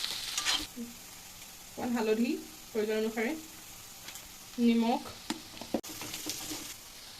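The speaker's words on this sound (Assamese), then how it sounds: "পিঁয়াজ আৰু আদা নহৰুখিনি অকণমান ভাজি ল'ম" Onion, ginger and garlic fry in a pan with a soft, continuous sizzle and occasional stirring clicks, mostly beneath a person speaking in short phrases.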